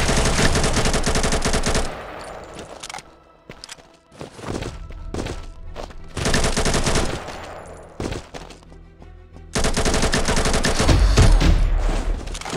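AK rifle fire in the iOS battle royale shooter Combat Master: loud, rapid automatic bursts crackle in several clusters, separated by short gaps filled with quieter thuds and movement.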